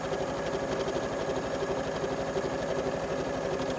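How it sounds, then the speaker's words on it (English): A sewing machine stitches quilt squares together in a fast, steady, even chatter of the needle, close and continuous with no one speaking. "I'm gonna use the line I drew as my guide for my needle as I sew"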